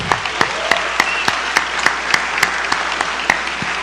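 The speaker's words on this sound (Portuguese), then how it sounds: "uma salva de palmas para ele também" Applause fills a Brazilian legislative assembly honor ceremony, a dense steady wash of clapping from a large audience with sharp individual claps punctuating it, sustained throughout without talk.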